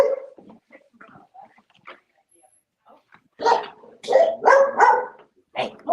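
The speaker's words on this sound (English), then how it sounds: "I hear a dog barking." A dog barks in several loud bursts in the second half, after some quieter sounds and brief speech-like fragments near the start, heard over a remote sewing-event call.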